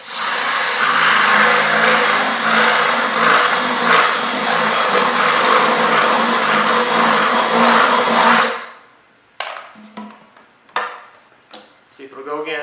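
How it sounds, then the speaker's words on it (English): A loud, steady power-drill whine boring out a hole in a kayak runs for about eight seconds, then cuts off, followed by a few short bursts of clatter and quiet talk. "start in a hole and just kind of bore it out"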